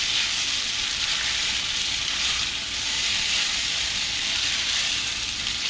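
Pasta aglio e olio being tossed and stirred in a hot pan with oil, black pepper and salt, giving a steady, loud, continuous sizzle with faint stirring scrapes and no talk.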